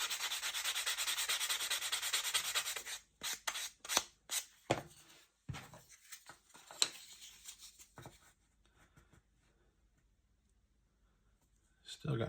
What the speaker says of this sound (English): Remember, we don't trim,